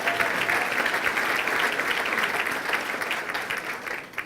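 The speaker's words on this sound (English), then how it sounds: "let's give a big clap for everyone else in this room." Dense, sustained applause from a large audience at a mayor's State of the City address in Evanston, a loud continuous wash of clapping that eases slightly toward the end.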